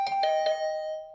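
A doorbell in The Hundred Line: Last Defense Academy rings three quick chimes in a row, then one bright tone rings on and slowly fades, with no voices.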